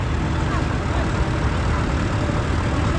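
A 1952 Allis-Chalmers WD-45 tractor rolls by in a parade, its engine a dense, continuous low rumble mixed with broad outdoor noise, steady and fairly loud throughout.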